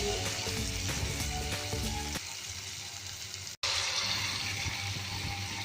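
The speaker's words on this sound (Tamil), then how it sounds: "ஒவ்வொரு உருண்டையாக முக்கி எடுத்து எண்ணெயில் போட்டுருங்க." Batter-dipped suliyam balls fry in hot oil, giving a loud, dense bubbling sizzle that eases slightly midway, with a brief dropout before the frying resumes steadily.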